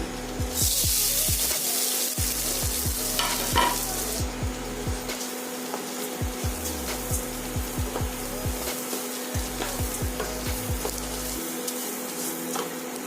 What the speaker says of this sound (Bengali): চালটাকে কিন্তু 5-6 মিনিট ধরে ভালো করে ভেজে নেব।